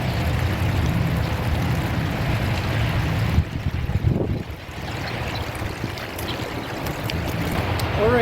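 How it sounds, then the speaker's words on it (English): A pump draining water from a 4,500-gallon koi pond, producing a continuous rushing, gurgling wash of water with a brief dip and shift partway through, loud and close. "while the pump is draining the pond, that's going to take a while"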